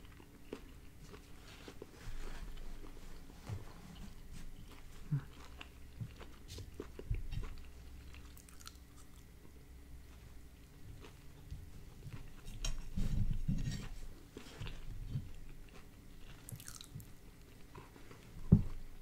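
Quiet close-up chewing and biting of a gas station hot dog topped with sauerkraut and pickle relish, soft wet squishes and crunches recurring throughout, with a sharper bite near the end.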